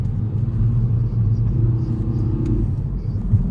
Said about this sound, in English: It's got a bit of an artificial sound that sort of pumps through the cabin.